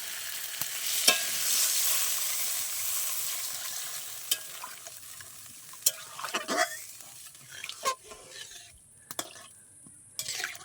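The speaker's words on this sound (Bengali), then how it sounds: "এতে আমি এবার দিয়ে দেবো গরম জল।" Hot water poured into a sizzling, well-fried curry in a pan: a hissing sizzle that fades and breaks into bubbling, with spoon scrapes and clinks against the pan, no voices.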